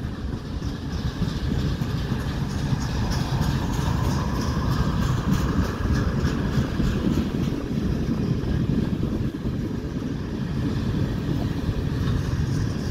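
A northbound mixed freight train hauled by five engines, two of them Canadian National locomotives, makes a constant heavy rumble with rolling wheel clatter that stays loud and close for the whole span.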